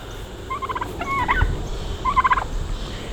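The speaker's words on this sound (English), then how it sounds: "And the turkeys are always the ones to lead the way." Farm turkeys near a barn gobble in a few quick rattling bursts, moderately close, over a low outdoor rumble with no talking.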